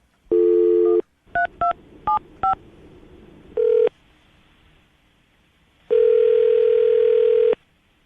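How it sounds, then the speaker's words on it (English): Touch-tone telephone keypad dialing a number: a long tone, then four short quick DTMF beeps, another brief tone and a longer steady tone, each loud and clean over quiet background hiss, with no talking. "I'm going to dial her phone number right now"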